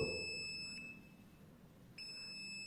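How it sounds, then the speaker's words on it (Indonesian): Beeping from a smart multimeter in buzzer (continuity) mode: a steady high electronic tone sounds at the start, breaks off briefly, then resumes, fairly quiet and alone. "kemudian ada mode buzzer juga nah kita satuin aja ini bisa berfungsi tuh"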